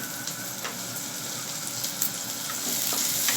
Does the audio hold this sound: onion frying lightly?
yes